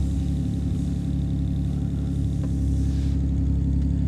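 A Porsche 997.1 with its naturally aspirated 4.1L engine runs on a dyno, a loud, steady engine drone with strong low harmonics, held near and constant with no talk.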